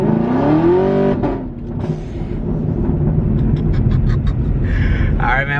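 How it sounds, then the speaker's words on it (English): A 2017 Chevrolet Camaro 2SS V8 given a quick blip of throttle, its engine note climbing in a loud rev before dropping back to a rumbling idle, heard up close. "Not a pull, but you know, just give it some gas."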